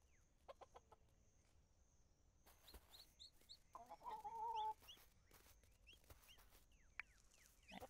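Chickens in the video game Dinkum cluck in short, scattered bursts over a quiet background, with a louder, sustained cluck in the middle and a few sharp clicks between the calls.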